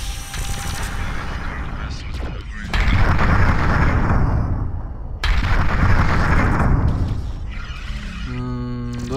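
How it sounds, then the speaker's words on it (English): Space combat explosions in Starpoint Gemini roar in long, loud bursts, two big sustained blasts dominating, with game music and effects around them. "Lots of explosions."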